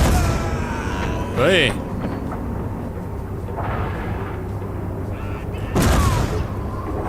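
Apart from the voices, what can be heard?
88 mm flak gun firing in the video game Übersoldier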